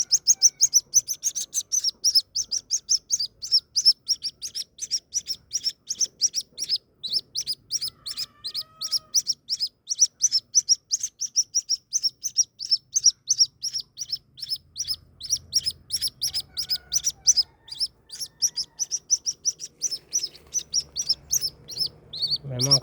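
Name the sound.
white-breasted waterhen (ruak-ruak) chicks chirping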